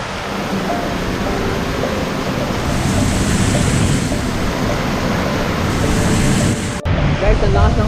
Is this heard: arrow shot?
no